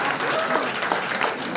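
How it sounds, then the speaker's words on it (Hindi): Audience applause at a theatrical legal-literacy performance, with dense steady clapping filling the whole moment and a brief voice surfacing over it. "जोरदार तालियों से स्वागत कीजिए"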